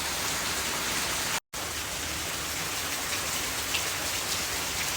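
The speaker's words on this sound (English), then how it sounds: "I love the sound of the rain." Steady rain falling, a dense even hiss of drops close by with no other sounds and no talk, apart from one very short dropout.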